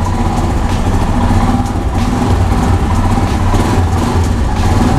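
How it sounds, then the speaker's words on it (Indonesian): A 2020 Royal Enfield Himalayan 400cc motorcycle engine idles with a smooth, steady low rumble that holds evenly throughout, close by and with no talking. "Untuk 400 cc, suara mesinnya sih halus banget ya."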